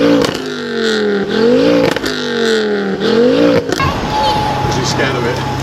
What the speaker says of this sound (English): There's an RS4.